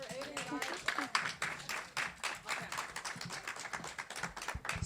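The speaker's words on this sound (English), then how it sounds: "Another round of applause for Aiden, guys." An open mic audience applauds a performer with a dense, energetic round of clapping that runs throughout, while voices can be heard speaking over the crowd.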